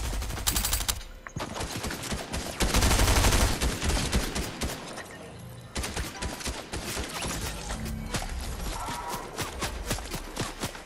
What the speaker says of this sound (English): Where are they shooting at?